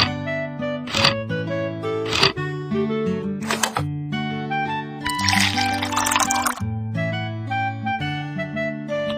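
A short gush of pouring water, lasting about a second, rises over bright, steady electronic music with plucky chimes.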